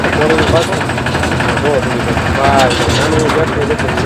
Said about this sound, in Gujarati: ફાઇનલી મિત્રો ટ્રેક્ટર થઈ ગયું ચાલુ